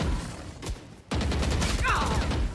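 Gunfire in the game Valorant, several sharp shots in quick bursts with a brief pause, loud and close, followed by clattering mechanical effects, with a voice faintly in the mix.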